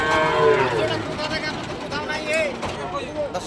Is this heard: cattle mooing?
yes